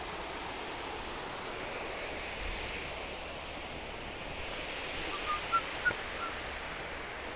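Canal water flows with a steady, even rushing hiss at a Karnataka spot near Mangalore, moderately faint and constant, with a couple of tiny chirps near the end.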